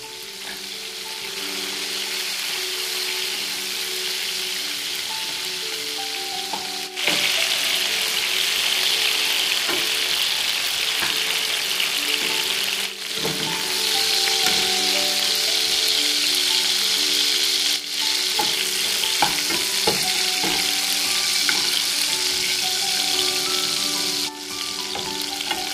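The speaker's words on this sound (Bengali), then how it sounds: "এখন এর মধ্যে মাছগুলো দিয়ে একটু হালকা করে ভেজে নেব।" Tiger prawns fry in about 60 ml of very hot mustard oil, a loud continuous sizzle with occasional clinks and scrapes of a spatula against the pan.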